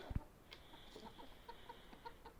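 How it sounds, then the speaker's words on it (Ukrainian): A backyard chicken gives soft, evenly spaced clucks while being herded, faint and somewhat distant over a steady high hiss, with a brief low thump near the start. "Буду зараз загонити ту курку."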